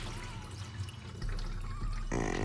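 Coolant-contaminated oil drips and trickles faintly from a 5.7 Hemi engine's oil pan, then a steadier stream starts pouring near the end, close by and quiet.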